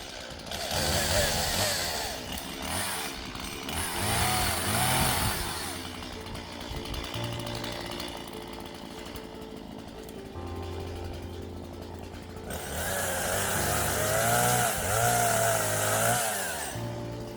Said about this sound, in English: So time to get out the chainsaws.